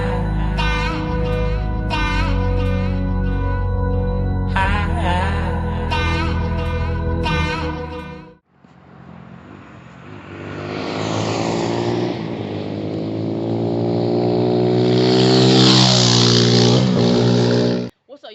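XMOTOS 250cc dirt bike kickstarted: an engine hum runs at first, then a brief drop, then the engine catches and revs up loudly, rising in pitch before cutting off abruptly at the end.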